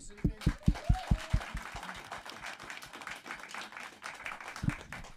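An audience at a live music show in a studio lounge claps, with a few strong, distinct claps near the start and then lighter, scattered applause continuing under some talking.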